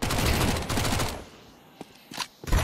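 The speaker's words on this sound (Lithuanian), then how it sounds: "Tu dar iš visų pusių šaudo" Bursts of automatic gunfire in Counter-Strike 2, a long rapid rattle of shots followed by a pause, then a few scattered single shots and another short burst, close and loud.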